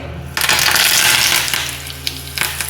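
A spoonful of oil heating in a tadka pan on a gas stove, a steady hot sizzle rising abruptly and holding loud and close for a couple of seconds, with a few sharper crackles near the end.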